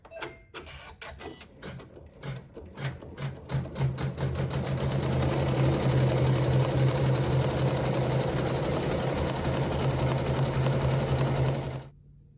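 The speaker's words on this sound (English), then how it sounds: "this will sew quilting over fabrics 1 and 2" Embroidery sewing machine stitching quilting over two fabrics in a hoop, starting with separate slow needle strokes that speed into a dense, even mechanical whir before stopping abruptly, with no talking.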